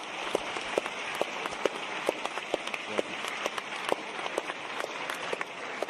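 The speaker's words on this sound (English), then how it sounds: "I just want to collectively give them applause." A large audience at an annual Isaac Asimov debate gives sustained applause for the event's organizers, a thick, even roar of clapping with sharp individual claps standing out throughout.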